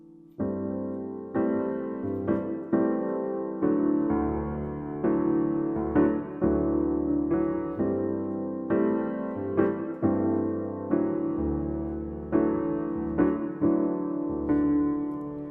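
Piano chords played in a steady rhythmic pattern, sustained harmonies struck repeatedly at a moderate tempo, with no voices.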